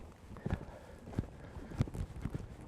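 Horse in winter eventing training cantering over a line of ground poles, with four clear hoof thuds landing at steady stride intervals, close and fairly quiet against a faint background hiss.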